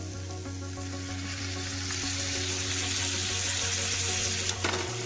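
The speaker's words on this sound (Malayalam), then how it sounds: "വെള്ളം ഒഴിച്ചു കൊടുക്കാം." Water from cooked chicken is poured into a pan of frying masala for chicken varattiyathu, giving a loud, steady sizzling hiss with a low hum underneath and a brief clatter near the end.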